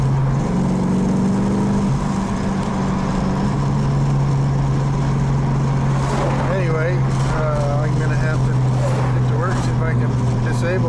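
A car engine fitted with a two-barrel carburetor running at a steady idle, a constant close low drone, while voices talk over it during the second half.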